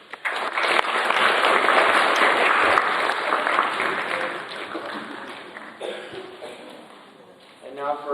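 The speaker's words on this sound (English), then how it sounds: "Clapping is in order." Audience applause at a Boy Scouts Court of Honor ceremony, a dense sustained wash of many hands clapping that slowly thins and fades, with a few voices joining near the end.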